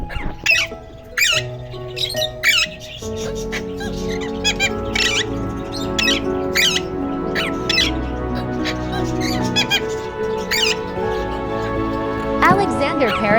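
Alexandrine parakeet chicks a few days old squawk in repeated sharp, shrill bursts, close and loud, over a steady background with a voice talking throughout.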